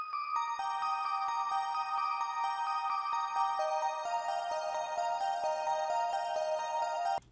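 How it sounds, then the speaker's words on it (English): Bell tones synthesized in Serum from an imperfect sine oscillator, chiming in a gentle melodic sequence of bright, ringing notes with long sustain, clean and close with no voices. "make some really pretty bells that sound like this"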